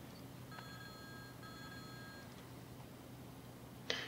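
A phone alarm box ringing in the firefighting game EmergeNYC, two steady electronic tone bursts over a constant low hum, followed by a brief sharp click near the end.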